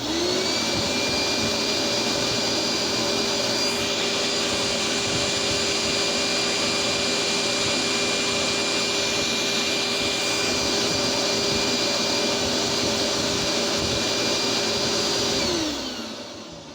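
A red vacuum cleaner, one model in a comparison of bagged and bagless vacuums, runs loud and steady with a constant motor whine and airflow roar for about fifteen seconds before spinning down at the end.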